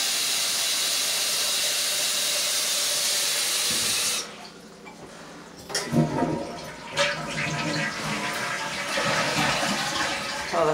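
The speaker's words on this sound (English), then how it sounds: "Well, the flush is fine." A toilet in a downstairs half bath of a house flushes. A steady, loud rush of water runs for several seconds, then drops away into gurgling, hissing refill water that swells again in short surges.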